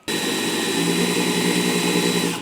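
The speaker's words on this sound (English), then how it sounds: "So you can use both hands on the drill." A power drill runs steadily and loudly for about two seconds during kitchen cabinet finishing, a continuous whirring motor tone starting abruptly and cutting off at the end, with no talk over it.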